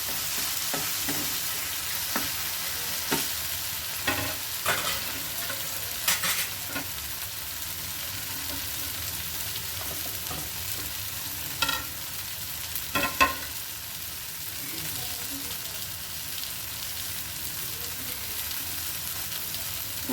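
Masala fries on a tawa while being stirred, a constant close sizzle broken by scraping strokes of the spatula at irregular intervals, with no voices.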